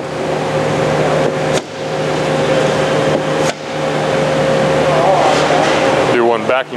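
A bandsaw running a rip cut through wood gives a loud, continuous hum and rasp with a steady motor tone, briefly dipping a couple of times, while a person speaks over it.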